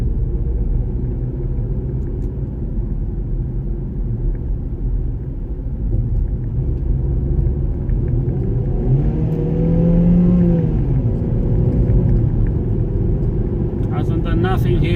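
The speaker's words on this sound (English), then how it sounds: "when I put my foot down to downshift, to force the car to downshift" A Vauxhall Astra J accelerates hard to force a harsh automatic downshift, its engine rumble steady and loud throughout with a rising rev swell partway through, heard from inside the car.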